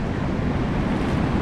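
Choppy ocean surf at Ocean Beach rushes steadily with wind buffeting the microphone, a constant loud wash of water with no distinct breaks.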